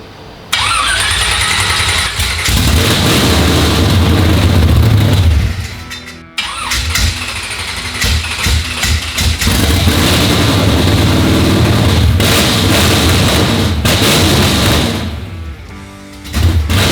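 A 355 engine in a Chevrolet El Camino project car cranks and fires up inside a garage, loud and close, roaring to a rough idle, cutting briefly, then restarting and running again.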